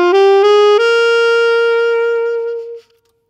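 A G Mixolydian scale plays as a rising run of a few clear, close pitched notes, the last one ringing out and fading to silence.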